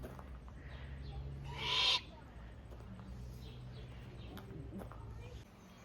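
Owls call at a birds of prey centre, with one brief, loud hoot standing out amid background noise while people talk nearby.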